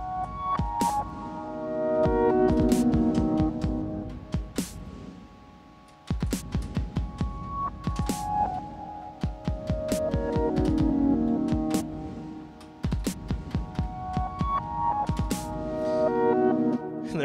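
Roland 8-bit sampler playing back a vocal sample sent through reverb, looping in pitched, stuttering phrases with lush tails, moderate level with no talking.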